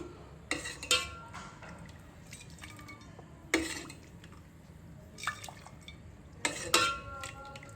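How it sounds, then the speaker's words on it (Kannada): A ladle pours sugar syrup for festive sugar moulds into a small pot, with a few sharp metal clinks and soft dripping spaced apart in a quiet kitchen. "ಈಗ ಇದಕ್ಕೆ ಒಂದು 2-3 ಸೌಟಷ್ಟು ಪಾಕನ ಹಾಕೋತಾ ಇದ್ದೀನಿ"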